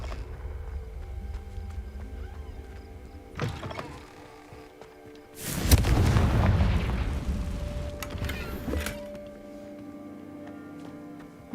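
A Confringo fire spell in Hogwarts Legacy bursts into a loud, broad explosive blast lasting a few seconds, after a short sharp crack and over a low mechanical game hum.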